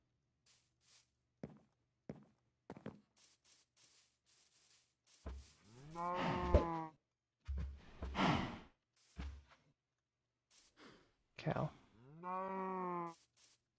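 Several cow moos from a farm animal in the video game Minecraft, rising and falling calls spaced across the clip with short gaps and small clicks between them, no talk over them.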